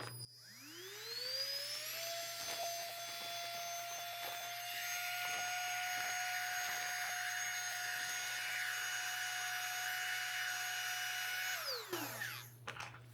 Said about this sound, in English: you take the vacuum and just put it right on there and just push the button